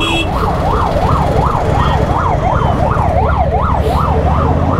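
An ambulance siren wails in a steady rising-and-falling pattern, loud and close, over rumbling road traffic and engine noise.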